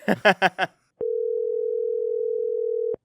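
Steady telephone dial tone of a phone line picked up for a radio-style podcast call-in, holding loud and unbroken for about two seconds right after a brief burst of talk.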